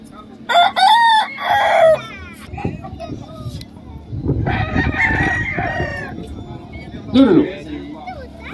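Roosters crow loudly at a cockfighting fiesta at a ranch party in Jerez, with a couple of bright crows early and another near the end, over a busy crowd of voices and children.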